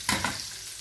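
Garlic paste frying toward brown in a pan for a lamb jalfrezi, a brief close burst of sizzle with a stir-like scrape near the start, then a steady hiss.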